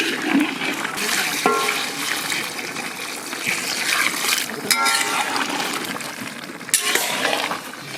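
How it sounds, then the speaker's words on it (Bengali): Water gushes into a pot of mutton curry cooking in a village kitchen, a loud, continuous rushing pour with splashes and a few clanks of the vessel. "এইবারে পরিমাণ মতন জল দিয়ে দেবো"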